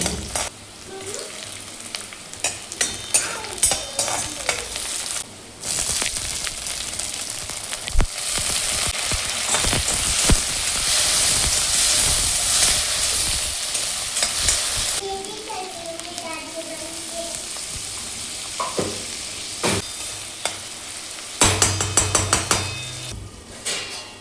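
Onion sizzles in hot oil in a pan for a village-style fenugreek greens dish, with a spoon stirring and scraping against the pan over a continuous frying hiss.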